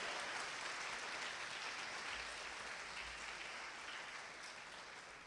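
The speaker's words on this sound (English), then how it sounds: "Let's give a bigger round of applause for Kanai Thakur Prabhu." An audience applauds after an evening lecture, a dense, steady wash of clapping that stays fairly distant and slowly fades.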